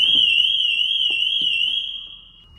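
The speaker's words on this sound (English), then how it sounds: "and then this will set the alarm off." A Ferrari 812's car alarm sounds a loud, piercing electronic tone steadily with a slight warble, then fades out near the end; a few faint clicks underneath.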